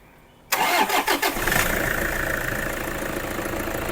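A 2012 Toyota Innova G4 cranks with a few quick stutters, then catches and settles into a steady, close idle.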